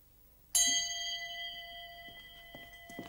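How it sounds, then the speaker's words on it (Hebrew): A bell is struck once and rings out with a bright, clear tone that decays slowly, followed by a few faint knocks and shuffles nearby. "איזה יופי של פעמון! אתה יכול לצלצל אם אתה רוצה."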